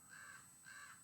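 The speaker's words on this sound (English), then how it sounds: "crows. I put a piece of bacon out, and they're fighting over it" Two hoarse caws from crows squabbling over a scrap of bacon put out for them, evenly spaced and moderately distant, over a constant faint hum.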